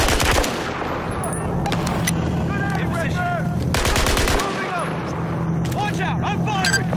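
Gunfire in Battlefield 4, sustained close machine-gun bursts and rattling shots with short pauses, loud over background battle noise while people talk.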